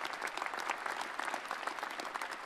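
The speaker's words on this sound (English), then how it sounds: "A round of applause for our incredible Cisco partners." A keynote audience applauding Cisco partners, dense continuous clapping from a large crowd filling the hall evenly, steady and moderately loud with no voices over it.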